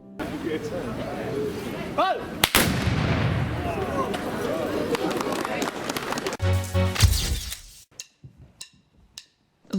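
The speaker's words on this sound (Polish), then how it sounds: "oddanie strzału salwy honorowej przez żołnierzy Opolskiego Klubu Strzeleckiego Husarz" Riflemen of the Opole shooting club Husarz fire an honor salute volley at an outdoor independence ceremony in Krapkowice: one sharp loud report, then several spaced cracks near the end, heard beneath a narrator's voice.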